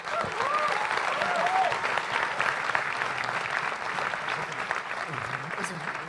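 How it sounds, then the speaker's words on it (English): A convention panel audience at RTX 2014 applauds the show's actors, steady sustained clapping from a large crowd with a few voices mixed in. "So round of applause for the talent"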